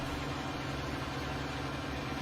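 A tractor engine in the farming game Farming Simulator 19 drones on continuously at a steady, rumbling pitch, with constant low hum and noise throughout and no voices.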